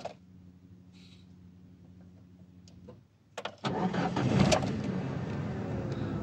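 A four-cylinder MVM 110 car with a faulty idle stepper motor cranks briefly after a low hum, then catches and settles into a loud, steady idle, heard close up.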